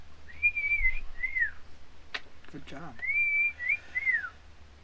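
A person whistles the Andy Griffith Show theme in clear, sliding notes, briefly interrupted by a short spoken remark before the whistling resumes.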